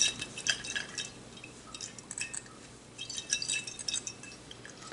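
White vinegar sloshes inside a closed glass jar, with close, irregular liquid splashes and small glassy clinks running through the whole stretch, no voices.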